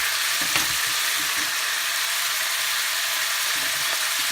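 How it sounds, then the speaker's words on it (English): Lamb with onions and ginger garlic paste frying in a pan, a dense steady hiss of sizzling oil with faint stirring taps, close and continuous. "Let's fry it for maybe 2 minutes, just so that the ginger garlic gets incorporated with the meat and the onions and everything"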